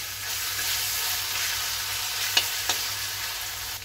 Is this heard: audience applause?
no